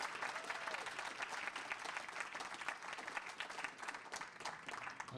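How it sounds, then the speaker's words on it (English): An audience at a Wall of Fame induction ceremony claps in dense, sustained applause for the inductees, sounding steady and somewhat distant. "one more round of applause for our Wall of Fame inductees"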